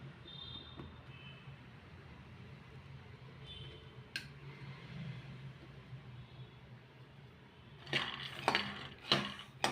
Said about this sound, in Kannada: ದಪ್ಪ ತಳಕ್ಕೆ ಪ್ಯಾನ್ ತೊಗೊಂಡಿದ್ದೀನಿ ಅದಕ್ಕೆ ನಾನು ಕಡಲೆ ಬೀಜ ಶೇಂಗಾನ ಹುರ್ಕೊಡ್ತಾ ಇದೆಯಾ